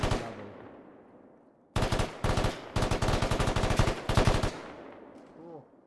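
Bursts of automatic gunfire in the video game Arma, aimed at tree lines, come as several loud rapid volleys of close shots separated by short pauses, with echoes trailing off after the last burst.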